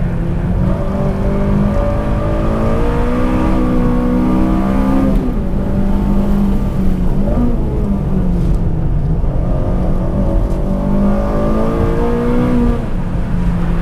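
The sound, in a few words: Honda Civic Si race car braking and accelerating on track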